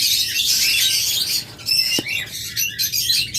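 Caged pet lovebirds and doves calling, a dense, continuous chorus of high chirps and squawks close by, with one sharp click partway through.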